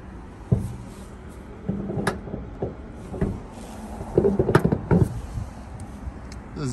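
The rear cargo cover of a Tesla Model Y is handled and shut, giving several close knocks, rattles and a soft thud over a steady background hum.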